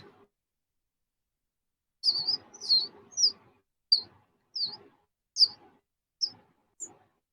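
A person whistles a series of about eight short, high, chirpy notes in an uneven rhythm, imitating a bird call, close and clear against near silence.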